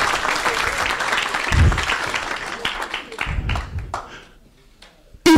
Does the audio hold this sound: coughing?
no